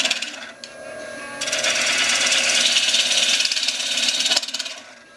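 A 1/4 inch gouge making light finishing cuts on spinning wood on a lathe, a steady close scraping hiss over the lathe's hum that starts after a short pause and runs continuously until a brief break near the end.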